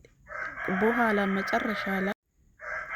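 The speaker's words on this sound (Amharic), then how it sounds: "ዶሮቹ እየጮሁ አስቸገሩ" Roosters crow repeatedly in the background of a home kitchen where a creamy snowball dessert is being made, with rising and falling calls running under a person speaking.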